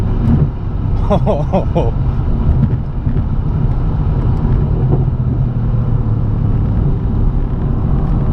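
Deep engine rumble from a 2017 Mercedes C63 AMG S Coupe or 2017 BMW M3 Competition Package accelerating along a straightaway, steady and loud throughout, with brief voices early on.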